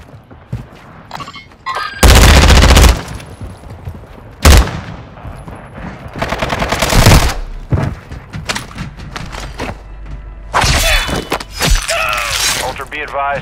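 Loud, close gunfire in Call of Duty DMZ on Ashika Island, with several heavy bursts and sharp shots separated by short pauses, and voices talking between them.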